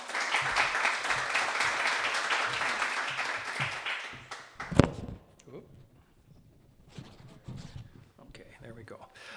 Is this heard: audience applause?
yes